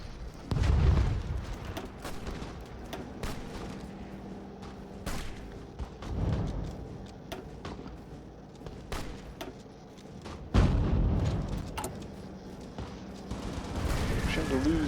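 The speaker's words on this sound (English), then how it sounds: "Yeah, we are getting bombed." Muffled booms and crackling bursts of gunfire from a Hearts of Iron IV battle in which troops are being bombed, with heavy impacts near the start, middle and end over background music while someone talks.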